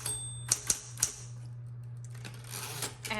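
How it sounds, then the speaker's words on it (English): A 1970s Electra 120 electric typewriter with a gold metallic finish clacks a few sharp, separate keystrokes over its steady motor hum, then a couple of softer mechanical clicks near the end. "and that is your typewriter"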